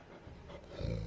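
A dog in an apartment reacts to neighbours' noise with a short low growl that builds into a rough bark-like roar near the end, brief and close.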